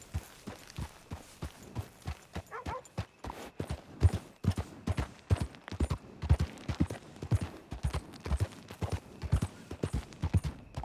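A horse's hooves clip-clop at a steady walking pace in the Western video game Red Dead Redemption, close and continuous throughout, with no one speaking.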